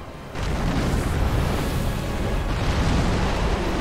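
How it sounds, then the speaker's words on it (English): A big explosion from Darkeater Midir in Dark Souls 3 bursts in abruptly after a brief quiet moment, then rolls on as a loud, heavy, continuous rumbling roar. "Big explosion."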